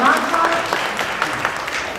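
Audience applause for a group of music students at a club concert, a steady wash of clapping throughout at moderate distance.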